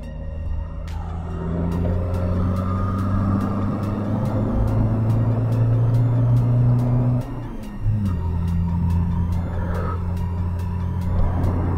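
VW Polo 1.6 TDI turbo diesel with a hybrid turbo accelerating hard on the road: a loud, close, droning engine rising in pitch, a brief dip as it shifts gear near the end, then climbing again, with regular ticking alongside.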